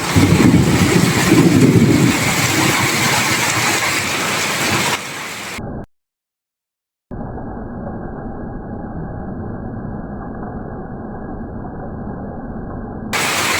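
Steady heavy rain pours through a thunderstorm deep at night beside crop fields, a dense continuous hiss that cuts out briefly, then resumes as a thinner, even downpour.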